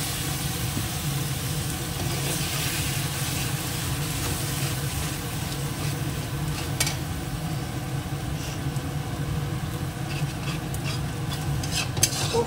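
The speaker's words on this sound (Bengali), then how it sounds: "কষিয়ে নিই একটু মশলাটাকে" Spice masala of cumin and chili powder with a splash of water frying in a pan, a soft continuous sizzle under quiet stirring scrapes, with occasional sharper clinks near the end.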